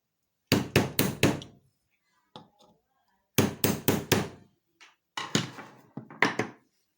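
Parts of a ceiling fan motor take light, sharp taps from a hammer, struck in quick bursts of three to four knocks separated by short pauses, with a few softer single taps between the groups.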